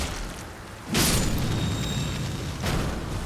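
An exploding scarab enemy in Elden Ring bursts with a loud boom, followed by a rumbling decay and a softer second thump shortly after.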